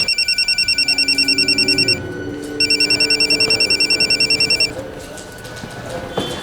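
A telephone's rapid electronic ringing trills in two bursts separated by a short pause, loud and close, with faint background noise afterward.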